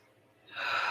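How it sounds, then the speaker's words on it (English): A deep, audible inhale during a vinyasa yoga breathing exercise starts faint and swells into a close, airy rush of breath, heard alone without talk. "Breathing in, holding it, and breathing out."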